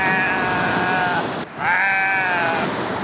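A goat bleats in two long, wavering calls separated by a short pause, with high surf and breaking waves roaring steadily behind it on a Barbados shore.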